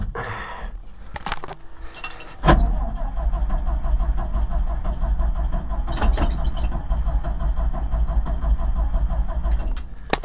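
A cold 1965 International R185 truck, over-choked and flooded, cranks with a few scattered clicks before the starter engages at about two and a half seconds. Loud, continuous rhythmic cranking then runs to the end without catching, close and unvoiced.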